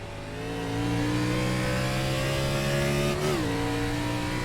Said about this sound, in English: I really want to drive Montreal in a stock car.